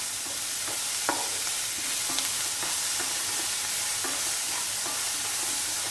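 Capsicum sautéing in a pan for chilli egg, a loud, dense sizzle under repeated rhythmic spatula strokes and scrapes, close and steady throughout.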